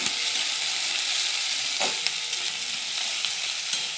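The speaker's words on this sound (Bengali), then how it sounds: "এবার দিয়ে দিচ্ছি পেঁয়াজ, কুচনো পেঁয়াজ। পেঁয়াজটাকে দিয়ে আমি ভালো করে লাল করব।" Chopped onions sizzling steadily in hot oil with black cumin seeds and whole cumin, with a scrape of stirring partway through, close and continuous with no talking.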